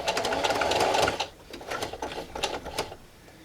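A domestic sewing machine runs in a fast steady burst stitching reusable cloth toilet tissue, then stops and restarts in shorter close-up runs.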